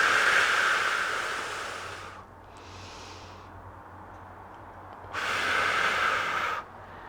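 Slow, deep breaths during a Pilates mat class with hand weights: a long airy exhale, a softer inhale, then another full breathy exhale, close and steady with no talking.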